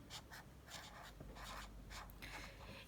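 Soft squeaky strokes of a marker on a board, quick and rhythmic, close by and quiet.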